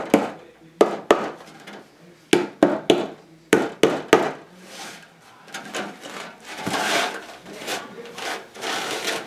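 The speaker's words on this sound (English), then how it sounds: "If your staples don't go in all the way, you can just set them with a hammer." Sharp hammer taps setting staples into a wooden sieve frame, several quick strikes in clusters, close and loud, followed by softer rubbing and scraping of wood.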